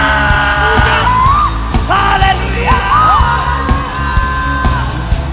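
A worship congregation at a prophecy prayer service shouts and yells together, a loud, continuous wall of whoops and hollers with one leading voice rising over the crowd throughout.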